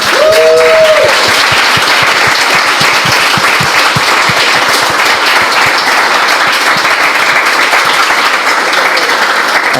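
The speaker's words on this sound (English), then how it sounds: "everyone clap again for these lovely people" An audience at a games industry panel event claps throughout, loud, dense and sustained, with a brief voice at the start.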